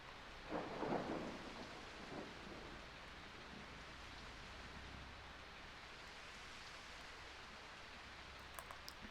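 Steady rain pours in the Jurassic Park: Operation Genesis video game, with a rumble of thunder early on and a constant hiss of rainfall throughout, loud and enveloping.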